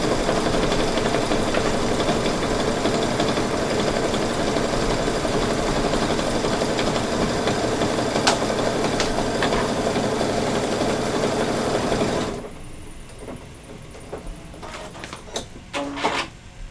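A Brother ScanNCut cutting machine hums and buzzes steadily for about twelve seconds, then stops abruptly, leaving quiet room tone with a few faint clicks and knocks.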